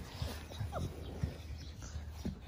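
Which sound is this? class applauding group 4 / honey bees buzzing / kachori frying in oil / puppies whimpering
puppies whimpering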